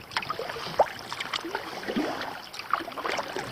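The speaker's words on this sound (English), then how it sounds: "now the paddling is just so beautifully easy" Kayak paddling along a tidal creek, with irregular splashes and drips of the blades dipping into water, close by and fairly quiet under light wind noise.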